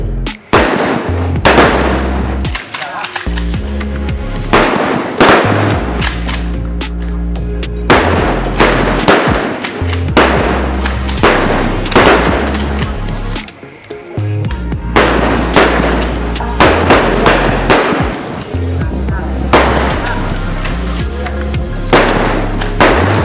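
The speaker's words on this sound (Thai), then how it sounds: "เริ่มยิง" Rapid bursts of rifle gunfire at a village defense volunteer shooting drill in Chiang Rai, Thailand, loud, close and sustained, with sharp repeated reports and a brief lull midway before firing resumes.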